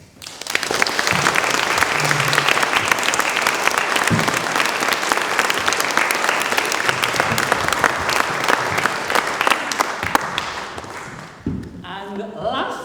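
Sustained audience applause at a Canterbury Tales performance with strolling players and a conductor, dense steady clapping filling about eleven seconds before tapering off, with a few scattered claps and voices near the end.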